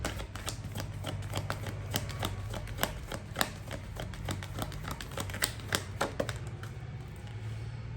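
Oracle cards are shuffled by hand in quick, crisp riffling flicks, with a rapid run of sharp snaps close to the ear and no talking.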